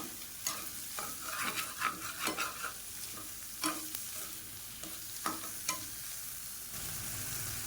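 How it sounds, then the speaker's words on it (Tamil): Dry fish and onions sizzle softly in a pan while a spoon stirs them, giving repeated scraping strokes over a low, steady frying hiss. "கருவாடு எல்லாம் வெங்காயம் எல்லாம் நல்லா வதங்கி இந்த மாதிரி ஆயிடுச்சு"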